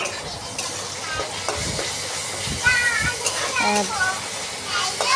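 Chopped onion and green chilli fry in a pan with a steady sizzle, while nearby children's voices and occasional talk carry over the cooking.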